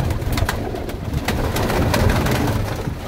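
Pigeons coo repeatedly at close range, soft rolling calls over a busy background of rustling and shuffling, with no voices heard.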